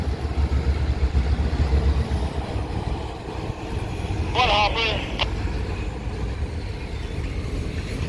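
CN diesel locomotives being revved in a rail yard, producing a loud, steady low engine rumble throughout, with a short voice or tonal call partway through.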